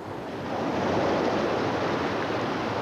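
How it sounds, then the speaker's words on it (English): Choppy sea waves whipped up by southwesterly winds churn steadily in a broad, continuous wash of surf, loud and close, with wind noise mixed in and no speech. "They're not very big waves, but they're very choppy waves"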